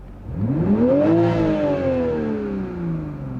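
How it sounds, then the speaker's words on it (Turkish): A 2021 Toyota Supra sports car engine in normal drive mode: one rev climbs quickly to a peak and then winds down gradually, loud and near, with a steady hum beneath and no speech. "Bir de normal moda alalım. Bir gazlayalım."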